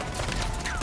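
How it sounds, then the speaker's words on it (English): Shotgun blasts in an Uncharted 4 multiplayer match: dense, loud, continuous broadband noise with gunfire and chaotic action packed into under a second, no clear gaps. "A shotgun to your face."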